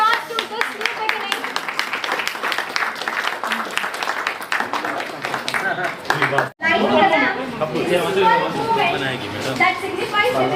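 A crowd claps and cheers at a school's grand opening ceremony for a new academic block, with steady loud applause mixed with chatter and children's voices, a brief dip, then the clapping and talk surge back.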